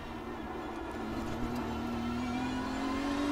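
A race car in iRacing climbs in pitch as it accelerates onto the banking at Daytona during a 24-hour event, the engine's whine rising steadily and smoothly at moderate level with no talk.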